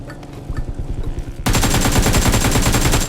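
Rapid automatic gunfire in a shooter video game, a dense burst that turns into a loud, continuous stream of shots after the first second and fills the rest of the clip.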